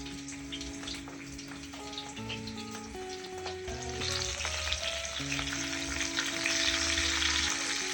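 Cooking oil heating in a pan crackles and sizzles steadily up close, with a hiss that swells louder toward the end; no one talks.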